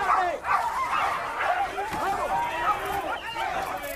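Several dogs bark and yelp at a dog fight in a dense, continuous overlapping chorus, with people talking and shouting underneath throughout.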